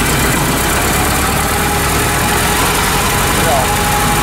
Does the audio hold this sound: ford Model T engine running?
yes